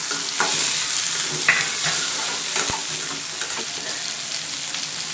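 Ginger, garlic and tomato fry in a pan while salt is stirred in for a Tamil chutney, a steady loud sizzle with occasional scraping stirs and no talking.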